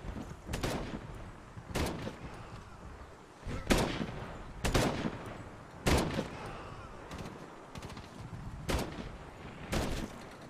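Gunshots ring out in the Medal of Honor video game, about a dozen sharp single reports spaced roughly a second apart over a low, busy battlefield background.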